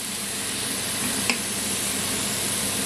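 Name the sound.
lentils with tomatoes simmering in a pot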